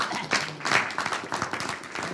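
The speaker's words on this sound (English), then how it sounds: "Let's give this dude a round of applause" A scattered round of clapping from a small meeting group, uneven and moderately loud for about two seconds.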